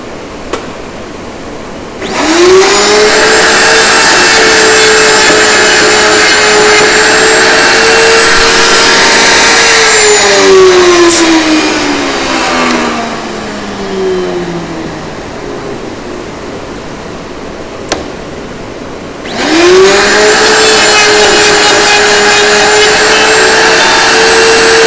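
A saw cuts wood pieces for webframes while dust extraction runs, producing a loud steady roaring hum. The saw's whine drops in pitch as it bites through the wood, then spins up again for a second cut.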